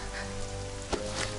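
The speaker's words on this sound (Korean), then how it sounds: "우리 하늘에 비가 오다니." Rain falling in an animated series, a steady soft patter on surfaces with a brief louder splash in the middle, no talking.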